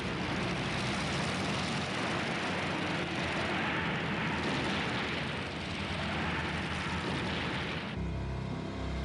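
A loud, broad engine roar from an aircraft fills the whole stretch steadily, then shifts abruptly near the end into a lower, pulsing rumble.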